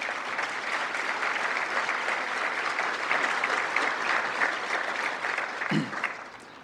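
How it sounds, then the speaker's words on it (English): Steady, dense applause from an audience at the 2022 Ventura County State of the County presentation, clapping evenly for the event's sponsors for several seconds before tapering slightly at the end. "Please give them a round of applause."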